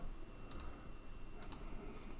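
Two short pairs of computer mouse clicks, quiet and close, made while tracing a selection with a lasso tool, spaced about a second apart over a faint steady background hum.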